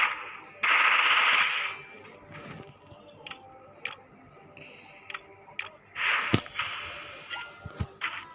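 Automatic gunfire from a video game, heard as a few separate loud bursts plus scattered single shots and clicks, with faint background game sounds and no talking.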